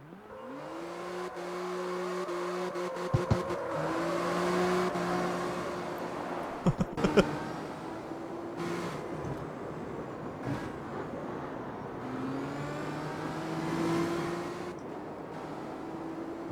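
A JDM car in the CarX Street racing game revs hard at full throttle, its engine note climbing and falling in repeated surges, with brief sharp tire squeals and clicks along the way, loud and continuous.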